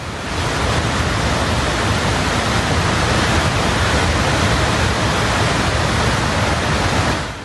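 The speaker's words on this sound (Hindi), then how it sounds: "पानी का जो बहाव आपको नजर आ रहा है" Floodwater rushing over a bridge in Chamba, Himachal, right after a cloudburst: a loud, unbroken roar of torrential flow that stays steady throughout, with no voices.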